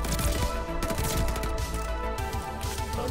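Loud, rapid automatic gunfire from hip-fired weapons in Call of Duty Vanguard rattles on almost without a break, close and dense over a busy game soundscape.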